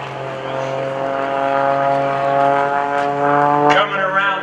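Greg Connell's aerobatic propeller airplane flying at the 2015 Greenwood Lake Airshow, a loud steady droning engine whose pitch shifts as it maneuvers, with an announcer talking over it.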